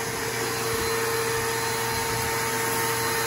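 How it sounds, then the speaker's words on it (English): A vacuum runs steadily, sucking yellow jackets out of a nest inside a customer's floor, its constant broadband roar and whine unbroken and close for the whole stretch, with no talking. "Trying to vacuum them out."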